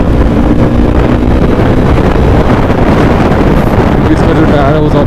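Heavy rain and wind roar loudly and steadily over a motorcycle ride, making a dense, unbroken wash of noise with no clear gaps.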